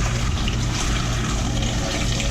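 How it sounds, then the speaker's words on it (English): Lobster stock pours through a strainer in a steady, unbroken liquid rush that holds at an even loudness throughout. "So we pour it now through the strainer without all"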